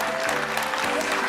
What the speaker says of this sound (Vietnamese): Mỗi lần xếp lên xin chúng ta vỗ tay thật lớn ạ.